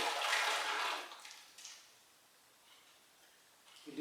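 Vegan spaghetti sauce poured into a pot makes a short wet splashing rush of about a second, then fades to near silence.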